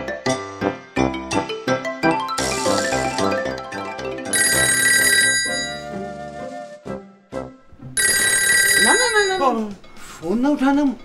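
Telephone bell ringing in a Pakistani comedy sketch, bursts of electronic ringing mixed with music and effects, loud and close, interrupted by pauses.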